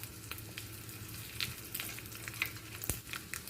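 Dried red chillies sizzling in hot tempering oil with urad dal and cumin, a steady close frying hiss with small crackling pops throughout, no voices.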